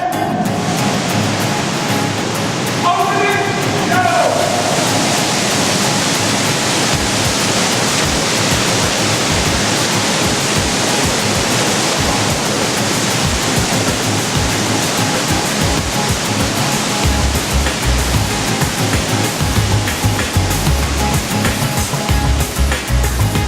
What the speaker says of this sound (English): when you see the water coming out from the vent pipes close to the roof